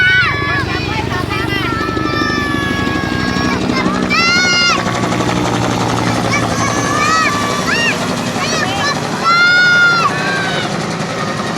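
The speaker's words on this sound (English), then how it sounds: "And we're invaded by helicopters." Helicopter rotors thrum loudly overhead in Iloilo, Philippines, while children shout and squeal excitedly, their high voices rising repeatedly above the steady engine drone.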